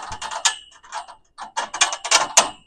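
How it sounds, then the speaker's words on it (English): A metal bolt is pushed and turned through the connecting tubes of a 20 ft Quictent polytunnel greenhouse frame, giving close, irregular bursts of scraping, clicking and ratcheting. "Just run that bolt right through."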